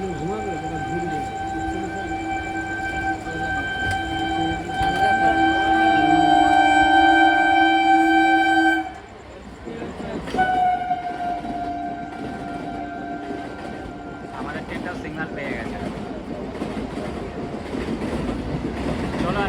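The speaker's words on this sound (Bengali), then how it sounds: "দ্রুত গতিতে আসছে হচ্ছে তোমার কাটোয়া শিয়ালদা গ্যালোপিং লোকাল দেখো খুব দ্রুত গতিতে ডিপার্চার করবে" A Katwa–Sealdah galloping local train roars through Titagarh station at speed with a long, loud horn blast, wheels rattling on the rails, and voices heard faintly in the background.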